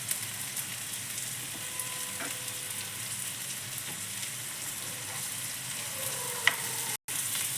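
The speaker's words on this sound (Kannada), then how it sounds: "ಸ್ವಲ್ಪ ಈ ತರಕಾರಿ ಏನಿದೆಯಲ್ಲ ಸ್ವಲ್ಪ ಫ್ರೈ ಆಗಬೇಕು." Capsicum, beans and grated carrot fry in a pan for a veg sandwich filling, a steady close sizzle with occasional stirring scrapes and light clinks.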